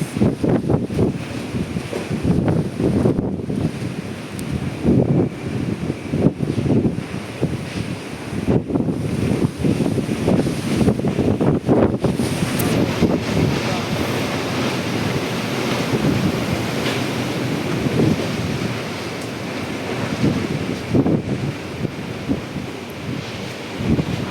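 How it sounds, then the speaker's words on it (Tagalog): Strong typhoon wind roaring steadily during a Hong Kong typhoon signal 9, buffeting the microphone with gusty rumbling bursts and a constant broadband rush throughout. "Malakas yung hangin, grabe."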